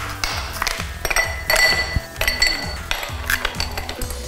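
Ice cubes clinking and knocking in a glass, close, with a series of bright clinks and rattles at irregular intervals throughout.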